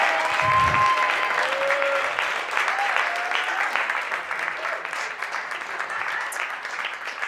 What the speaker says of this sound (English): give a big round of applause to our amazing host of this panel